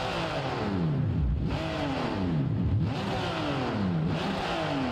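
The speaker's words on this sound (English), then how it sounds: "I know you want to hear the engine sound." Porsche 992 Cup race car engine in the BeamNG Drive game, revving hard through repeated rising sweeps with shifts between them, loud, close and continuous with no voices.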